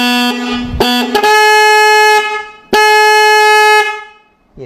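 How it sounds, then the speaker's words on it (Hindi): A repaired vehicle horn on a bike, truck, car or bus honks in loud, steady blasts, starting with a few short bursts and then two long sustained tones close to the microphone, with no talking. "ये देखो ये हमारा हॉर्न एकदम रिपेयर हो गया और ठीक से बज रहा है"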